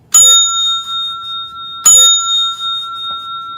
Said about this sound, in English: that's why I've been ringing the bell for like 15 minutes